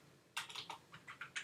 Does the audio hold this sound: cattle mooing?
no